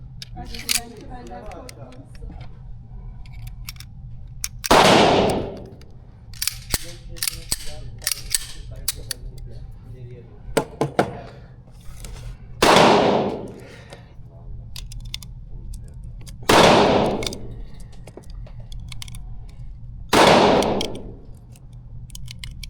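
Four loud, sharp shots from a Sarsılmaz pistol fired several seconds apart during test shooting, each with a short echoing decay, with faint clicks and handling noise in between.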